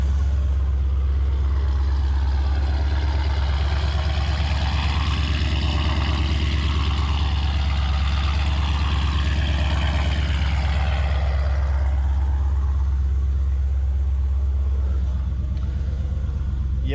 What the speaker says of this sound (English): my favorite part about this whole car is that exhaust sound